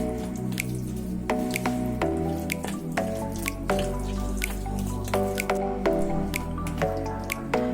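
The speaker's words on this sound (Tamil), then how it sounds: "இதை நல்லா கலந்துக்கோங்க." Chicken 65 marinade being mixed by hand with egg and salt in a home kitchen: close, wet squelching and squishing in a steady, repeated rhythm, with no voices.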